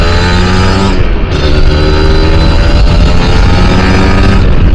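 Kawasaki RR150 two-stroke motorcycle with power valve revving hard and close, a loud sustained buzzing engine note holding high revs for several seconds, no talking.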